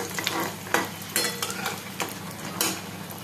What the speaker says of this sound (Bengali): মিডিয়াম টু লো ফ্লেমে বড়িগুলো একটু বেশ লাল লাল করে ভেজে নিতে হবে।